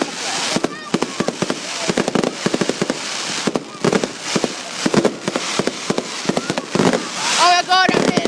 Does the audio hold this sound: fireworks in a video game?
yes